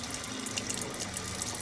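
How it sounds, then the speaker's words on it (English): Water from a pump-fed sink in a van runs steadily from the tap into the basin, a close, continuous splashing hiss over a low pump hum. "turn the pump switch on, and then you've got running water"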